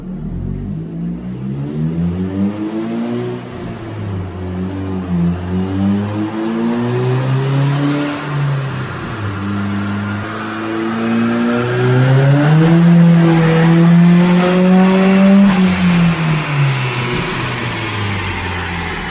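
A turbocharged Toyota Corolla engine revs hard on a dyno, loud and close, its pitch climbing and falling through repeated pulls and peaking in a long high-rpm run near the end, with no talking.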